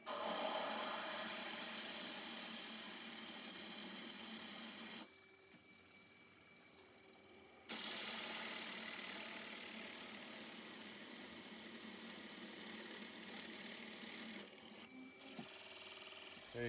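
A U drill bores out a hit-and-miss engine bearing on a milling machine, a steady, close, grinding cutting rasp that stops for a couple of seconds midway, then resumes and runs on.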